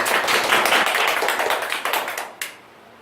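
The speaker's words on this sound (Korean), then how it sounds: "박수." A lecture audience claps to welcome the speaker, a brisk burst of many hands that fades within about two seconds, ending with a final lone clap.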